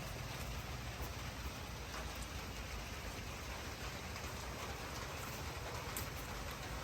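Steady, dense rain pouring down, a continuous hiss of drops on surfaces with no pauses.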